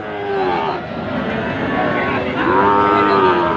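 A Sahiwal breed bull calf on a cattle farm gives drawn-out moos, heard close and fairly loud against a busy outdoor background with faint voices.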